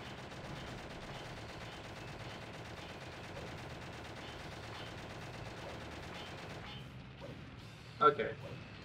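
Rapid automatic gunfire from guns in the video game Shadow the Hedgehog rattles steadily for several seconds under a voice, then stops, followed by a single sharp impact.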